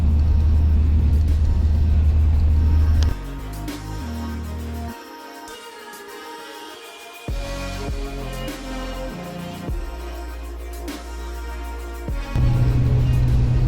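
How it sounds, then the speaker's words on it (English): A vehicle travels a rough, broken stretch of the Alaska Highway, with a loud, steady low road rumble and engine drone that dips and swells as the surface changes, alone with no talk. "You're driving for 50 miles or so, and the road is still bad"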